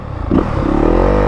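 A 2022 Yamaha YZ250FX dirt bike engine on a mountain single-track trail, heard loud and close as a short, rough, buzzing drone as it flames out.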